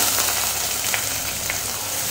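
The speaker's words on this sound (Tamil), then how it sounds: "1 நிமிஷம் எண்ணெயில் வதக்கி விட்டுக்கலாம்" Steady crackling sizzle of onions sautéing in hot oil, continuous and close, with a few brighter pops and a low hum underneath.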